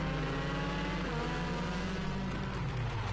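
Several rally cars in the Rally Fighters video game idle and rev together at the start line, a steady dense engine drone with shifting pitch and no voices over it.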